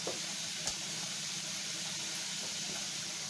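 Fish milt frying in a pan gives a steady, soft sizzle and hiss that runs without a break, fairly quiet, with no voices.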